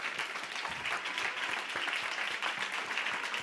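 Steady applause from an audience for an award winner at a health and wellbeing summit arena stage, dense continuous clapping throughout with a brief voice underneath.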